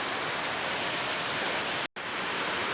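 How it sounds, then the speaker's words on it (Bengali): Steady broadband rain hiss from continuous day-long rain, dense and unbroken, with a brief cut to silence partway through. "বৃষ্টি হয়েই চলেছে এক নাগাড়ে, সেই কালকের থেকে শুরু হয়েছে, চলছেই।"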